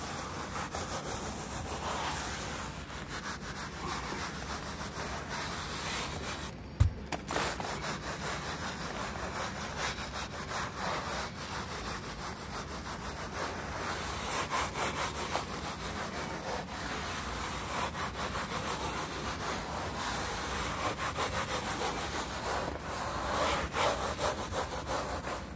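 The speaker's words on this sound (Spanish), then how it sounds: "Luego hay que pasarla, la flota, para cerrar todos los poros" A float is rubbed steadily over fresh stucco to close the pores, giving a continuous close scraping, rasping texture for about twenty-five seconds with one brief knock early on and no speech.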